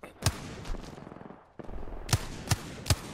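Gunfire in a first-person shooter video game: one sharp shot, a pause, then three loud evenly spaced shots close together, each cracking out over a low background rumble.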